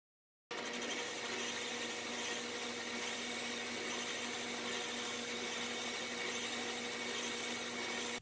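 A metal lathe turning at 600 RPM takes a 30 thou cut with a hand-ground tool bit, giving a steady, loud whine with tonal hum that runs unbroken and alone.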